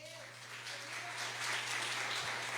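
A church congregation applauds, a broad, continuous wash of clapping that swells slightly over a few seconds, faint, with a low steady hum beneath.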